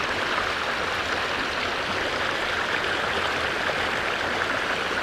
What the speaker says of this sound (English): So here's the little Babbling Brook behind my